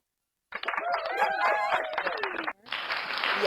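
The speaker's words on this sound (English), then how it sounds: "They're clapping for you right now" Voices cheer and call out for about two seconds at a podcast, then a short burst of clapping follows for a podcast guest, moderately loud and close.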